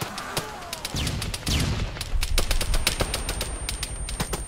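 Automatic gunfire in the video game Arma 3, during a zombie mission on Tanoa: rapid cracking shots in irregular bursts, fairly close, mixed with further scattered fire.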